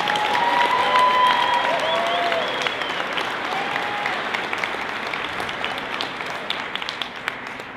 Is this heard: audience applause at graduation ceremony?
yes